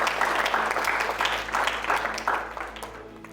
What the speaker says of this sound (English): so just a little round of applause for Paul, everyone.